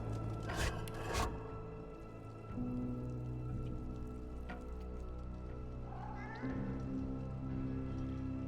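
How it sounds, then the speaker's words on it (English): A cat meows in the Divinity: Original Sin II video game, with a few clear, drawn-out meows standing out against steady ambient game music and drones, no talk. "There's a cat in this place."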